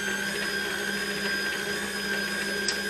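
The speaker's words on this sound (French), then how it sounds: "je commence à pétrir, je mets le robot comme ceci à pétrir" A stand mixer kneading bread dough for cheese rolls, its motor running as a steady mechanical whir with a constant hum and no break, loud and close, with a faint click near the end.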